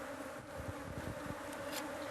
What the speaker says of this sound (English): I've acquired that knowledge to handle the bees and how to manage the bees.